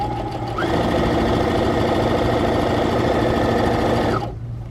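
A Baby Lock Presto II sewing machine spins up and runs at full speed with a steady, smooth, fairly quiet whir for about four seconds before slowing down, no talking.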